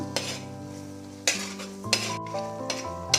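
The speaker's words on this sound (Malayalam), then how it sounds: "ഫ്ലെയിം നന്നായിട്ട് കുറച്ചതിന് ശേഷം ഇതൊന്ന് ഇളക്കി അതിൻ്റെ പച്ചമണം പോകുന്നത് വരെ ഒന്ന് വഴറ്റി കൊടുക്കണം" Ground spices sautéed in a pan over low flame, with a few distinct stirring scrapes against the pan and a soft steady sizzle, close and without talk.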